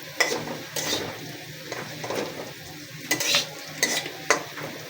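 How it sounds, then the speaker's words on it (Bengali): Chopped onion and green chilli hit hot oil in a pan with a steady sizzle, punctuated by several sharp scraping stirs from a spatula. "এখন আমরা কিছু পরিমাণ পেঁয়াজ কুচি আর কিছু পরিমাণ মরিচ কুচি অ্যাড করে নিলাম।"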